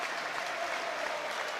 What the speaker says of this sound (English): A lot of Millwall fans standing up and applauding him as he's taken off on a stretcher